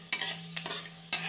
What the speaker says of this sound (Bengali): আর দিয়ে দিচ্ছি অল্প হিং, এটাকে হালকা ভেজে নেব।